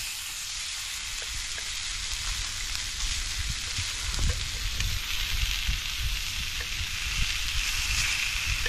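Pomfret fish sizzling in hot oil in a frying pan, a dense continuous crackle like rain on a surface with frequent tiny pops, near and steady throughout with no voices.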